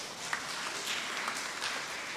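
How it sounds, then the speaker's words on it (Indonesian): A church congregation claps together, steady and moderately distant, with a dense wash of clapping filling the short stretch and no voices over it. "Tepuk tangan dulu."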